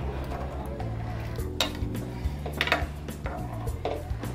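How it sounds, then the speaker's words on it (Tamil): A flat ladle stirs a pot of green gram payasam made with coconut milk, scraping and clinking against the pan in irregular strokes over a steady low background hum. "இந்தமாரி சப்பையான கரண்டியில் கொஞ்சம் மிக்ஸ் பண்ணி விட்டுக்கலாம்"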